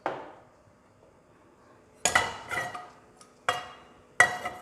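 A pan on the stove, heated with two drops of oil for a vegetable stir fry, gives a few sharp metallic clanks and clinks, spaced apart and close by, with quiet gaps between and no talking.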